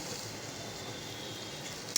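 Steady crackling sizzle of onions frying in hot oil, continuous and close, with a brief sharper spatter at the end.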